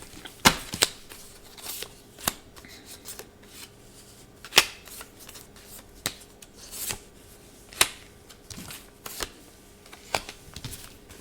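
Tarot cards being shuffled and handled at close range, a quiet run of irregular sharp riffles and snaps spread over several seconds with soft rustling in between, and no talking.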